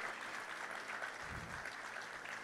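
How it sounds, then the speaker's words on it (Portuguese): Scattered, fairly faint clapping from spectators at a dairy Gyr cattle judging ring, continuous and a bit distant, with a brief low thump partway through. "Y en pista, un aplauso para Naí, por favor."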